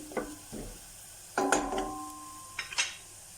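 Spices, cumin powder among them, are stirred through a sizzling mixture in a hot pan for aloo paratha, with brief scraping strokes and bursts of frying between quiet moments.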